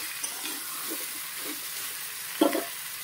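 Taro and potato fry in a pan with a steady, soft hiss of oil, broken by a few brief stirring scrapes and one sharper clatter near the end.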